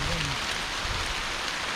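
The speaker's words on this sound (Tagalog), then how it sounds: "umuulan na guys." Steady rain falls on an island during a jeepney ride, a dense continuous hiss filling the short stretch with no voices over it.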